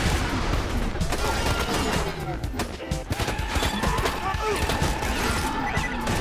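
Dense, continuous gunfire and explosions from the Borderlands 2 video game, a railgun shooting in rapid bursts amid a loud, chaotic firefight with constant impacts and crackles throughout.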